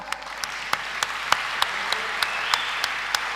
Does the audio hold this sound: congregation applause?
yes